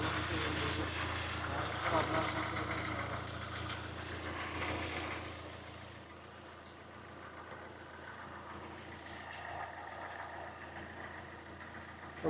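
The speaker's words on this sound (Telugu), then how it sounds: "సో వెహికల్ సింగిల్ క్రాంక్లోనే స్టార్ట్ అయిపోతుంది." A Hyundai i20 petrol engine idles steadily after repair from flood damage, having started on a single crank with fresh engine oil and filters, a low continuous hum heard close by with a mechanic talking over it.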